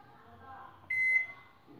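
A microwave oven is started for a 10-minute timer while cooking carrot halwa in milk, giving one clear sustained electronic beep amid quiet kitchen hum.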